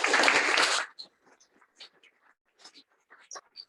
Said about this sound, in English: Please acknowledge their service and fortitude with a round of applause for a job well done